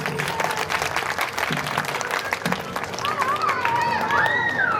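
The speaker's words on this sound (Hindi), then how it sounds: "विनीता जी के लिए और निहारिका जी के लिए आप लोग बिल्कुल जोरों शोरों से तालियां बजाएं" Indoor audience at a Bhagwat katha in Indore claps loudly and steadily throughout, with crowd voices and a whistle-like tone rising near the end.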